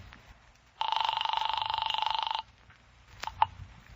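An old telephone bell ringing during a phone call, one buzzy, rapidly pulsing ring lasting under two seconds, followed by faint clicks.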